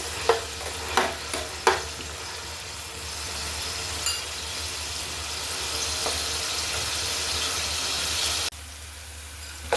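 Chopped onions frying in a cooking pot for beef kofta curry, a steady sizzle with a few sharp stirring clanks near the start, continuing evenly before the frying dips slightly near the end.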